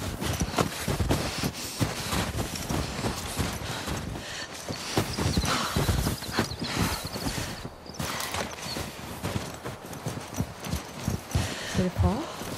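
Horse hooves clip-clop rapidly in a video game set at a university, with galloping, occasional whinnies and mechanical clatter mixed under persistent talk.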